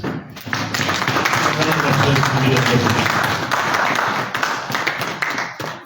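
Audience at a political gathering in Uganda breaks into loud, sustained applause, a thick wash of many hands clapping that holds steady for several seconds before tapering slightly near the end.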